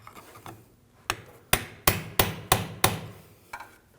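A pry bar taps the rear wheel bearing and axle of a 2007-2013 BMW 328i to break it free from the differential. About half a dozen sharp, close metallic knocks ring out in an uneven rhythm, with fainter taps before and after.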